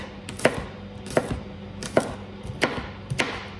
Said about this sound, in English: I'm also going to just roughly chop my garlic for it.